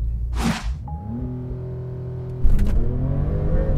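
A 2021 Porsche 911 Turbo S on a 0-60 launch, a close engine revving up with rising pitch, then a sharp whoosh as it surges harder and the drone climbs again.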